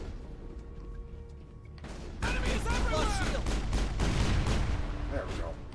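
Pistol fire rattles out in the sci-fi shooter Mass Effect as a dense burst of close, loud shots, layered with battle noise and a talking voice after a quieter opening.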